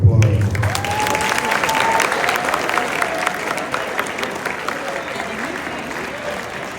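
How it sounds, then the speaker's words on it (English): A banquet audience gives the high school football players a round of applause, loud dense clapping with a few whoops and cheers, steady across the stretch and fading slightly toward the end. "give these guys another round of applause"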